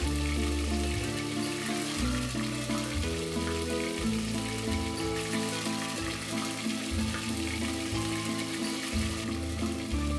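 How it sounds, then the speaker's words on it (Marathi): Masala paste with turmeric and tomato paste sizzles steadily in hot oil while being sautéed for an egg masala, a continuous close frying hiss under loud background music. "आणि तेलावर छान परतत रहा।"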